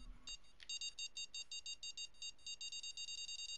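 Electronic alert from the Fishing Planet video game, a quick series of short high-pitched beeps repeating in a steady pulse, fairly quiet, with a soft tone at the start and no voices.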